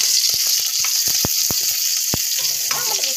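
Onions sizzle hard in hot oil, a loud, dense crackling hiss broken by sharp pops and spatters and a few scrapes of stirring, with no one speaking.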